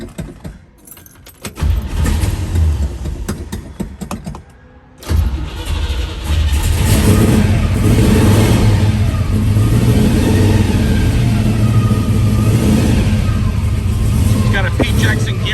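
A 1967 Chevrolet Chevelle engine turns over and then revs hard, a loud, close, sustained roar that rises and holds, with some rattling early on.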